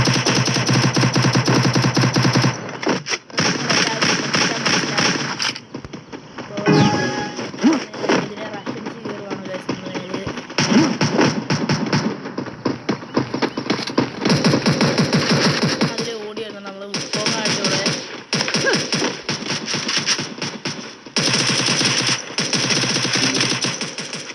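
Guns firing in the Free Fire video game, loud rapid automatic bursts repeating across the clip with brief pauses, mixed with other game sounds.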